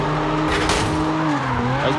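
Car drifting in the video game CarX Drift Racing 3 on a drift track in the United States, with a loud engine drone under a sustained wavering tire squeal.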